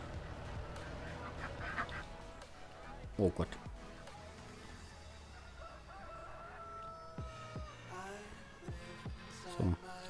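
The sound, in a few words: chickens and ducks in video game Landwirtschafts-Simulator 19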